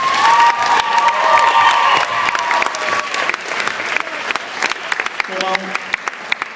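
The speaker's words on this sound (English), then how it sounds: "A round of applause, please." Applause fills a school prom hall at Tottington High School, a crowd clapping loudly and steadily with scattered cheers, then thinning into sparser claps near the end.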